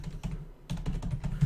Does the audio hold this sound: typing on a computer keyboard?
yes